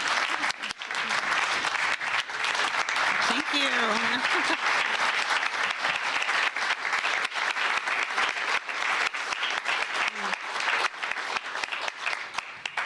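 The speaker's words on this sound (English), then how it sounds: "let us all give you a big round of applause for many reasons." Loud, steady audience applause at a pro-life celebration gathering, continuous clapping with a voice speaking briefly over it.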